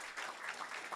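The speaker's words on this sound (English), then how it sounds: "a round of applause for them." Short burst of audience applause at a youth entrepreneurship challenge event, honoring sponsor EY; steady, moderate clapping from a crowd throughout the brief moment.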